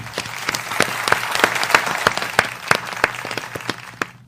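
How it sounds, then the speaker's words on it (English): A crowd applauds steadily for a few seconds, a dense patter of many hands clapping, fairly close and loud. "Let's give a round of applause for Deacon for that beautiful class."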